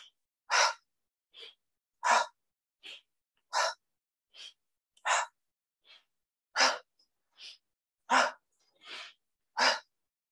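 Forceful yogic exhales with an open 'ha' sound during a slow hatha sun salutation, a dozen loud breathy bursts spaced about every half to full second, alternating strong and softer, alone in a quiet room.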